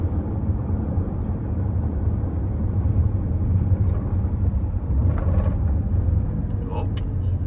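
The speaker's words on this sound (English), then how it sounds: "It's driving along exactly 45 miles an hour." A Waymo robotaxi travelling at 45 miles an hour, with a steady low road rumble and tyre noise from inside the cabin and a few faint clicks toward the end.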